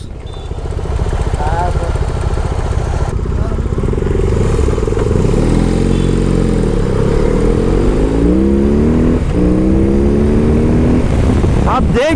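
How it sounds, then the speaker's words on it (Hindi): A BMW R 18 premium cruiser motorcycle accelerates hard, its engine note climbing in pitch through the gears with brief dips at each shift, loud and close throughout. "आप देख सकते हो कि थर्ड गियर क्रॉस करने से पहले ही ये मोटरसाइकिल ने 100 का स्पीड क्रॉस कर लिया था।"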